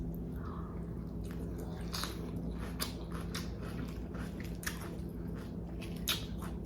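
Someone bites into and chews a KFC Nashville hot chicken salad close to the mic, faint wet squishes and soft crunches in a quiet room, with no talk.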